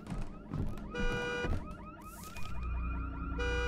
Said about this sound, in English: When I get closer to the mirror, the honking gets louder.